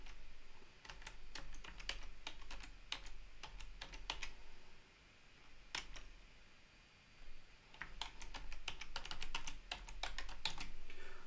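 Rapid bursts of computer keyboard typing in two clusters with a short pause between, close and fairly loud over a low steady hum.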